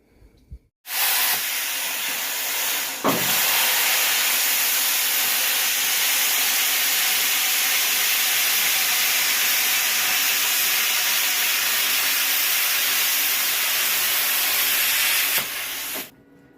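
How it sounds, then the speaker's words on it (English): A plasma cutter slices through a 1965 Mustang body panel, giving a loud, steady, bright hiss that starts abruptly, holds for about fifteen seconds with a brief pop early on, and then cuts off sharply. "I'm going to use a plasma cutter."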